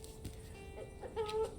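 Chicken clucking in the video game Mr Prepper, a few soft game-sound clucks low in the mix against quiet background sound.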